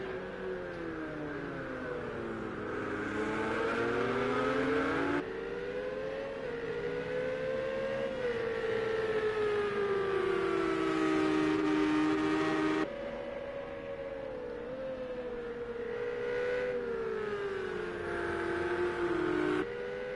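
Race cars lapping Circuit of the Americas, their engines howling loud and close as they rise and fall in pitch through the corners, with repeated shifts and surges and no talk over them.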